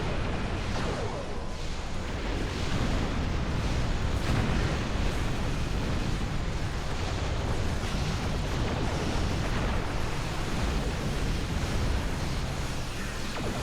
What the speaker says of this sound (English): Coalition forces, target the Terran vessels and fire at will.